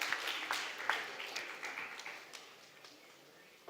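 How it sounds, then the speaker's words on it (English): Graduates at a college graduation ceremony give themselves a brief round of applause, fairly faint scattered clapping in a large space that tapers off within a few seconds. "Give yourself a round of applause."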